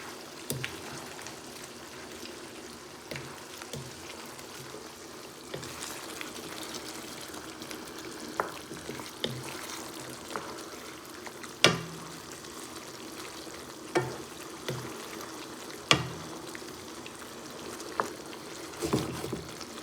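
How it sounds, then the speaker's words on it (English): Taccole beans simmer in tomato sauce in a pan, a low bubbling sizzle with occasional spoon knocks and stirring scrapes at irregular intervals, quiet and close, without voices. "Now cook together the sauce and the taccole beans for about 10 minutes."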